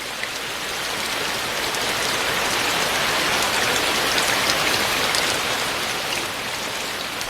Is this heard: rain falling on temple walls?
yes